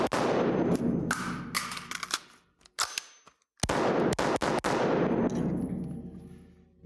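A Springfield Hellion bullpup rifle fires at an outdoor range in loud, close shots, some spaced apart and some in quick clusters. Each report is followed by a long booming echo, with metallic clanks and brief gaps between strings.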